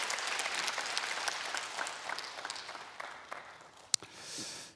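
Audience applause at a lecture on happy marriages, a lively burst of clapping from a hall crowd that runs several seconds, ends with a sharp knock, then gives way to quieter room noise.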